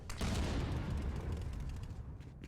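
In ContractorsVR, a burst of combat starts with a sharp attack followed by a rumbling wash of gunfire and explosive booms that gradually fades, fairly quiet overall with no voices.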